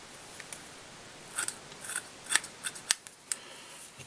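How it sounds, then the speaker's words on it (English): Scissors snip repeatedly at the synthetic fibres of a chunky perch pike fly, trimming it into a perch shape; a series of crisp, close cuts in uneven rhythm, quiet with no talk. "take our scissors and just trim it into that"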